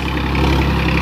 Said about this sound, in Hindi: पहले गियर की चाल देखो ट्रैक्टर की, इस स्पीड तो चल रहा है नॉर्मल आरपीएम पे